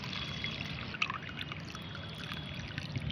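Plain water is poured to dilute liquid plant fertilizer, giving a steady trickling splash that runs for several seconds under faint background noise, with no talk.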